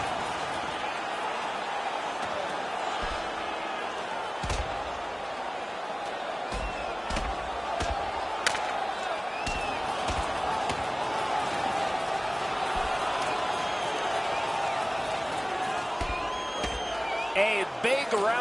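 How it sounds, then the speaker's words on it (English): Hockey arena crowd roaring in reaction to a fight between players, a broad sustained roar with scattered shouts and thuds while a commentator talks over it. "You can hear the crowd."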